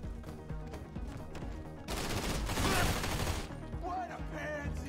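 Video game gunfire laid down as cover during a casino heist: dense, rapid bursts of automatic shooting that swell loudest in the middle, with shouted voices over the top.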